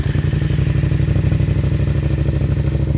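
A motorcycle idling in neutral through an exhaust with a fiberglass-wrapped baffle, a loud, close, steady low thumping pulse that keeps an even rhythm throughout with slight mechanical clatter.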